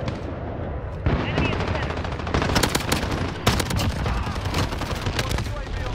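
Dense automatic gunfire in Call of Duty: Modern Warfare multiplayer, loud and close with rapid bursts and sharp individual shots running through nearly the whole stretch.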